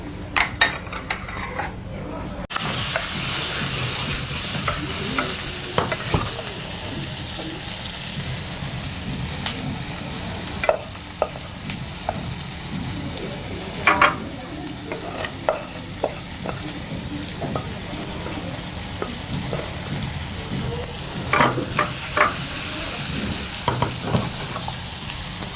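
Food frying in oil and butter in a pan, a steady dense sizzle with intermittent scraping and clinking of a stirring utensil against the pot, close and continuous for the whole stretch.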